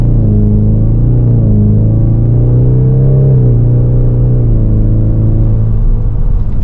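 A 2024 Ford Mustang EcoBoost convertible with a 2.3 liter turbocharged engine and 10-speed automatic pulls away hard from a standstill. The engine drones loud and close, rising steadily in pitch through a gear change.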